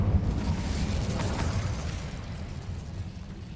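Fire spell burst from a wizard video game, a low rumbling whoosh of flame that swells at the start and rolls on steadily, fading slightly, with no talk.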